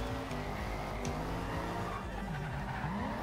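A Chevrolet SS drift build in the racing game Forza Horizon 2 slides sideways, its engine roaring loud and steady with rising and falling revs, tire squeal and skid noise blended in throughout.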